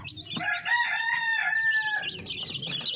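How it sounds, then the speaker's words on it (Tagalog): Chickens in a coop, a rooster crowing loudly and close with clucking around it, one long crow running over most of the moment; no talk. "pagtsagaan po muna namin itong uh, ating mga sisiw so ito muna po yung palalakihin natin"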